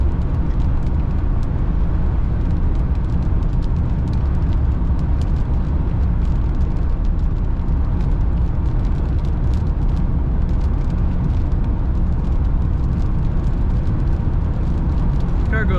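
A 1991 Cadillac Brougham D'Elegance cruising at 60 mph, with a steady broadband road and engine rumble and wind noise filling the cabin throughout, continuous and even in loudness.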